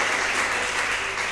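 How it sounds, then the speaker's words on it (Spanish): A church congregation claps steadily and loudly, a continuous close wash of many hands with no break through the whole short stretch. "Un aplauso."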